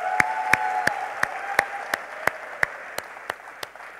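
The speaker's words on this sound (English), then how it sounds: "So a big round of applause for you guys." At a Google design session in Hyderabad, the crowd claps in unison: sharp, evenly spaced claps roughly three per second over a faint tonal hum, with no voices over them.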